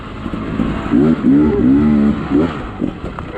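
Off-road vehicle engine revving as it climbs over rocks on the Benson Canyon Spur trail, a loud, close, wavering growl with rising and falling pitch in several surges over a few seconds.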